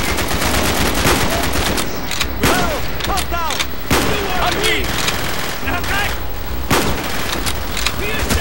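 Dense video game gunfire from Call of Duty Black Ops: loud, rapid bursts of automatic fire with sharp shots and ringing tails, running continuously with faint voices underneath.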